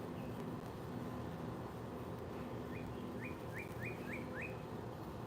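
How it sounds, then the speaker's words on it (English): A few short, rising bird chirps repeat in a quick series over a steady background rumble, fairly faint and distant. "listen to the birds while you wait a moment here."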